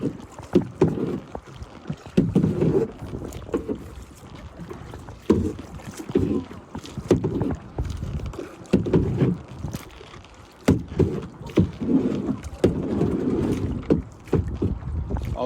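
A kayak is paddled across water, with rhythmic paddle strokes splashing and dripping in a steady repeating pattern close to the microphone, under light wind buffeting.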